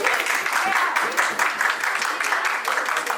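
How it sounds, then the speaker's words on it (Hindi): An audience at a retirement ceremony in Gwalior claps steadily, a moderate wash of applause that continues evenly throughout. "जोरदार तालियों से स्वागत होते रहना चाहिए।"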